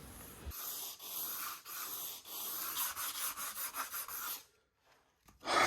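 Sandpaper rubs back and forth in quick, rhythmic strokes over a fiberglass boat mold for a 25 ft Bertram project, close and fairly loud, before pausing briefly and then starting again.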